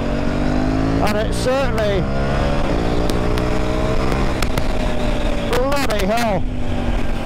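KTM 890 R Duke motorcycle engine revving up hard through the gears, rising and falling whines with gear changes, loud and close under wind, with a rider talking and exclaiming over it.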